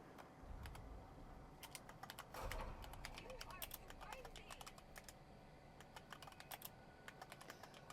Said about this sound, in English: I'm typing, I don't know if you can hear that or not.